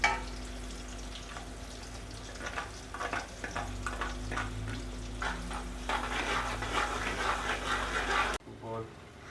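Ginger and garlic sizzle and crackle in hot oil with browned onions, with occasional stirring scrapes, under a steady low hum, then the sizzle cuts off abruptly near the end.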